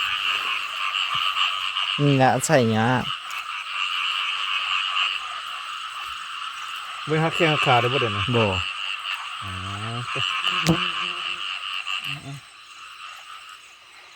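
Frogs croak loudly and steadily in a rain-flooded rice field at night, a dense continuous chorus with people talking in the foreground over it.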